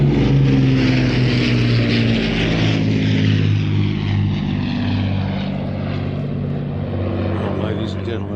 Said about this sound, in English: Listen to the sound of those beautiful Merlin engines.